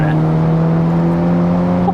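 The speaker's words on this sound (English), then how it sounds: "The tone of the exhaust is really nice as well. It's not too droney." A 400 bhp Volkswagen Polo GTI pulls hard in third gear, its engine and exhaust holding a steady, droning note up close while people talk over it.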